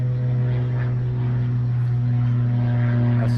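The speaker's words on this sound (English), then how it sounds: "And there's the airplane." An airplane flies overhead during a wildlife outing in New Orleans, its engine a loud, steady low drone that persists with no pauses, with no voices.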